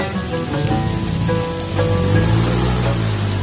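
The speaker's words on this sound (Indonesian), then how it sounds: "Cuaca sedang berkabut dan juga turun hujan." Steady rain falls on a foggy hiking trail in Kuningan, West Java, a loud dense patter continuing throughout without talk.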